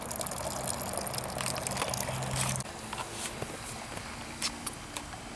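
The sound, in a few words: wort trickling out during first runnings of homebrew mash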